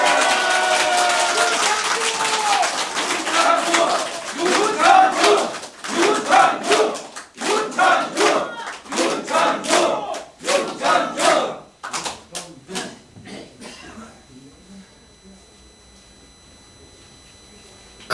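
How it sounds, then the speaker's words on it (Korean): A crowd at a political lecture in Daegu claps and shouts in repeated loud bursts, the surges growing shorter and fainter until the hall falls nearly silent. "여러분 이때 박수 한번 세게 주십시오"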